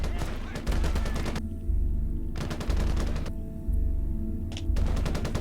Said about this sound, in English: It's the AA gun.